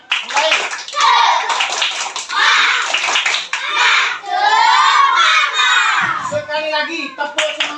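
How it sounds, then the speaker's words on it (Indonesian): Schoolchildren perform the tepuk semangat chant in a classroom, their voices shouting in unison with rhythmic hand clapping in loud bursts, while a teacher's voice is heard between rounds. "Mari kita tepuk semangat dulu."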